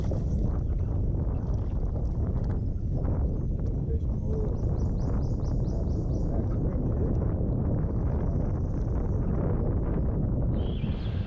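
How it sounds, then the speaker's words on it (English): Strong wind roars across Cedar Lake on a fishing outing, buffeting the microphone with a loud, constant rumble and gusts that never let up. "It's super windy out here."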